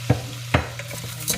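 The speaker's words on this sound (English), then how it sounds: "Then we add the 1 cup of elbow macaroni." One cup of elbow macaroni goes into a pot of creamy chicken noodle soup and gets stirred, making a couple of close knocks and scrapes against the pot over a low simmering hiss.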